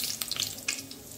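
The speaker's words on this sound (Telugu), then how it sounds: "ఆయిల్ కొంచెం వేడైన తర్వాత అందులో కొద్దిగా జీలకర్ర" Cumin seeds dropped into hot oil for vangibath, giving a soft, steady sizzle and crackle with a few brighter spits, close and fairly quiet, no talking.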